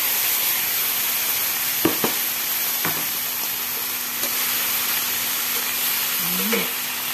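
Dried salted squid dropped into a pan already frying galangal and petai beans, giving a steady close sizzle with a few brief clinks and stirring scrapes.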